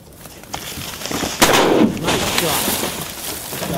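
A single shotgun shot fired during a waterfowl hunt makes a sharp, loud report that fades into an outdoor rumble, with faint voices and ambient noise around it.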